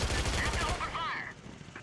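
Rapid automatic gunfire in the video game SOCOM 3, a loud fast burst of shots that breaks off after about a second, followed by a brief radio-like voice.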